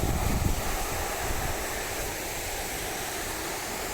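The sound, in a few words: flowing water of the River Carron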